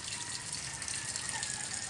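Rainwater rushes into an opened street drainage during a typhoon, a dense, steady gushing roar filling the short stretch with no talk.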